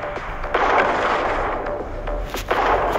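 Rapid gunfire in a shooting video game, a dense run of loud shots with a few sharper cracks standing out, close and continuous with no talking over it.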